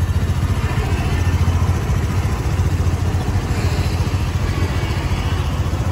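A new Honda Aviator scooter engine idles nearby with a steady low putter and light mechanical clatter, continuous and fairly loud, with no voices.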